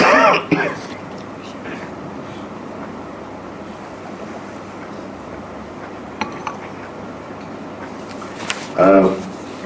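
A person coughs or clears their throat close up, once at the start and once near the end, with a steady low background hum between.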